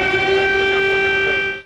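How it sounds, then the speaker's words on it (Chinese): An air raid siren sounds over Kyiv, the Ukrainian capital, during a missile strike, holding a loud, steady wailing tone for about a second and a half before cutting off. "这波空袭还引发首都基辅空袭警报大作"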